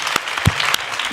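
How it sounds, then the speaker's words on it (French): A short burst of audience applause, brisk overlapping claps from a small crowd, fairly close and steady. "On s'applaudit."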